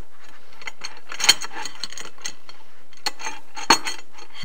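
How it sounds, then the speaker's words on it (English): A Phillips head screwdriver turning M2.5 screws into the frame of an Ortur Laser Master Pro 2 laser cutter, giving close metallic clicks and ratcheting taps with a couple of sharper knocks. "And then you can attach it with your M25 and a Phillips head screwdriver."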